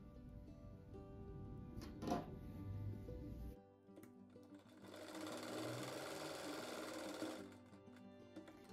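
A sewing machine stitches patchwork rug pieces in close, rapid mechanical runs, pausing briefly before resuming a steady whirring stitch that then slows and stops.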